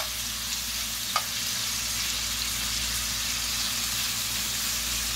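Pork pieces browning on a high fire for Cajun jambalaya, a loud, even, continuous sizzle with a single sharp click near the start, close and without talk.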